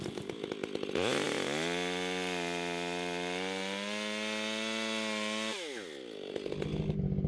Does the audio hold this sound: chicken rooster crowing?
no